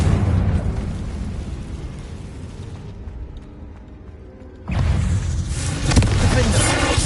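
A Confringo blasting spell goes off in a Harry Potter video game: a loud, broadband burst of game sound that dips briefly, then swells again with a heavy boom and rumbling blast that holds to the end.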